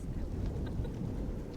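Strong wind buffets the microphone on a floating bridge, a steady low rumble with gusty swells running unbroken throughout, no voices.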